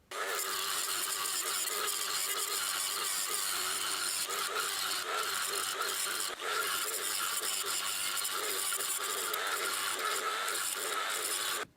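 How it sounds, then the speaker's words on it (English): Spoke wrench backing off spoke nipples on a bicycle wheel during a hub rebuild, giving a continuous close-up run of fine metallic clicking and ratcheting with one short break. "I'm backing off these nipples a little bit because, well, I did tension them a bit before grinding."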